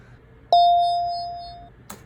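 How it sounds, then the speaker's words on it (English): One struck bell sample for a Christmas song rings out with a clear bright tone and a long smooth decay, followed by a brief soft knock just before the end. "So that's a bell sample I found."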